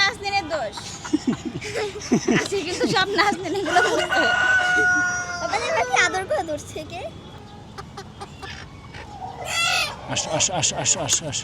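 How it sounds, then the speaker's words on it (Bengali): Chickens cluck and squawk repeatedly close by, with a rooster-like crow mixed in and a person talking over the busy flock. "ওই দেখেন মুরগি হচ্ছে খাঁচার ভিতরে ঢুকাই দিছি"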